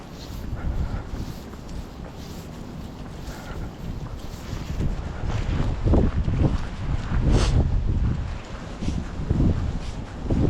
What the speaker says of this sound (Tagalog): Tumudo yung hangin ngayon mga par.